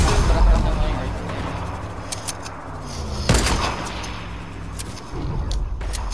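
Gunfire in a video game shooter, scattered shots and bursts with a sharp loud report near the middle, over game noise and a voice talking.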